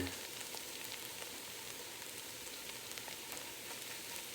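Onions sizzle and fry in a pan while it is deglazed for French onion soup, a dense crackling hiss that runs steadily and fairly quietly, up close with no talk.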